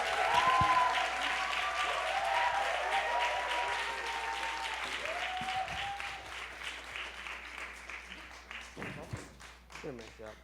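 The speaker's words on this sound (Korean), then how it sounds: "우리 두 분을 모실 때 큰 박수와 환호성으로 모시겠습니다." A worship seminar audience claps and cheers to welcome the speakers onstage, loud dense applause that gradually thins and fades as a voice begins speaking over it.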